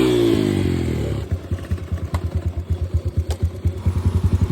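A trail motorcycle engine on a dirt trail at DRT in Bulacan, with its drive chain coming loose, revs under throttle: a rising whine falls into a fast, rhythmic chugging pulse, close and fairly loud, alone without talk.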